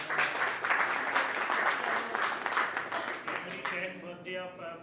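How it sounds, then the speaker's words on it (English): An audience at an awards event claps for an anniversary couple, dense applause loud at first and then thinning out near the end as talk takes over. "let's clap for"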